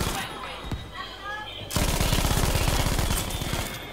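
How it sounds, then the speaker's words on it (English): An MG42 light machine gun in a video game unleashes a sustained, rapid burst of loud, closely spaced shots that begins abruptly after a brief stretch of quieter game noise and runs steadily to the end. "Yeehoo, MG42."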